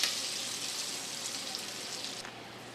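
Squirrel pieces frying in vegetable oil give a steady, close hiss and crackle of sizzling fat that holds at an even level throughout, with no talking.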